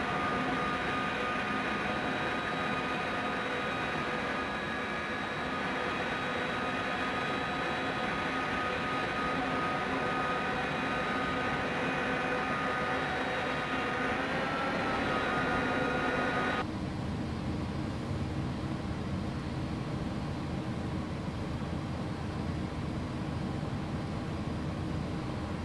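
Jet engine spooling up on an Airbus A300-600F freighter in X-Plane 11, a steady loud broadband roar with sustained whining tones that drops abruptly to a lower, duller rumble partway through.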